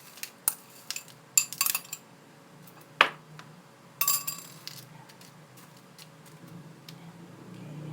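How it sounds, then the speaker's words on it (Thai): Chunks of hand-crushed ice clatter into a glass for a homemade Thai shaved ice dessert, a run of sharp clinks and rattles in quick bursts, with a louder knock near the middle and another cluster after it. "แล้วก็ใส่น้ำแข็งที่เราทุบไว้ค่ะ ใส่ลงไปเลย"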